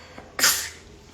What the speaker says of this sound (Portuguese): estou com vontade de espirrar